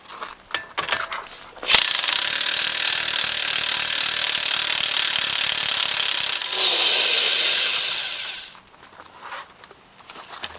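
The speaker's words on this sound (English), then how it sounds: "next step is to actually get this spindle nut off." Ratchet working on the front spindle nut of a 2008 Ford Explorer during a wheel hub and bearing replacement, a loud, close, continuous rapid clicking lasting several seconds before it fades out.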